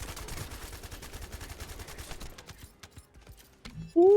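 Gunfire in The First Descendant, playing Lepic in a hard-mode Asylum run: a dense stream of rapid automatic shots for about two seconds, then scattered single shots and mechanical clicks, ending with a rising tonal effect.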